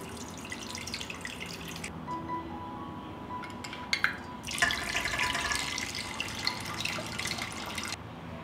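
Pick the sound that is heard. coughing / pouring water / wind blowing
pouring water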